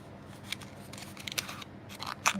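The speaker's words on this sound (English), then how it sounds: "just pop out all of my die cut pieces" Die-cut paper pieces being popped and pushed out of a card sheet by hand make a quick run of close crisp snaps, crackles and tearing clicks, growing louder toward the end.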